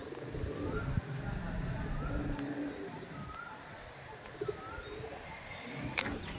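Pet pigeons kept in a loft cooing softly and repeatedly, faint low calls in the background with occasional flutters, while a person talks quietly nearby.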